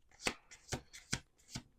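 A deck of tarot cards being shuffled in four quick riffling bursts at an even rhythm, close and fairly quiet, with no talking.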